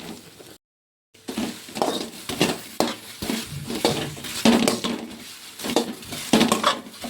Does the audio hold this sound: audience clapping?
no